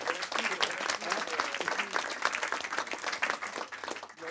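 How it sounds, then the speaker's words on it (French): Audience at a tech meetup clapping steadily and densely throughout, a continuous wash of many hands close by with no pauses. "donc on applaudit Julien."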